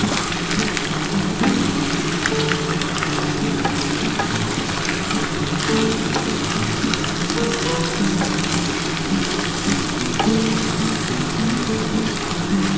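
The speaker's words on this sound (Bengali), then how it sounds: "আমি একসাথেই এগুলো ভাজবো" Soybean chunks and duck eggs fry together in hot oil, producing a loud, dense, unbroken crackling sizzle like heavy rain, steady and close throughout with no voices.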